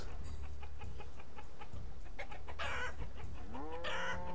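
Chickens cluck steadily over a constant low hum, with a rooster-like crowing call rising near the end; farm ambience from the video game Banished, no talking.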